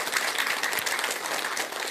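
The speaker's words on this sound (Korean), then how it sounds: "박수 한번 드리세요." Audience applause during a Buddhist dharma talk, steady dense clapping from a crowd, loud and continuous for the whole stretch with no talk over it.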